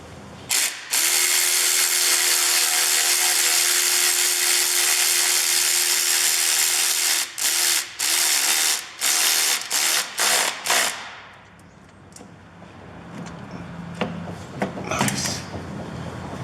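A ratchet snaps rapidly while bolts are tightened on a Citroen C15 drive shaft intermediate bearing, a long steady run of close clicking followed by several short bursts, then quieter handling noises.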